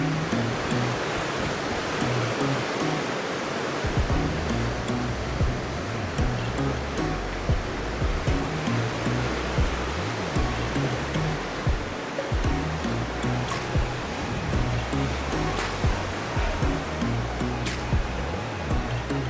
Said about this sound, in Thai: ลมค่อนข้างแรงมากนะครับ ตรงนี้ อยู่ติดริมทะเลนะครับ